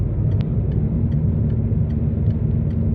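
A car drives along a road, heard from inside as a steady low rumble of engine and tyre noise with faint ticks and no talk.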